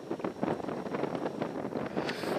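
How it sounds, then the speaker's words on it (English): Wind gusts across an outdoor shooting range, a steady broadband rush with rumbling buffeting against the microphone, continuous and moderately loud. "It's getting cold and windy."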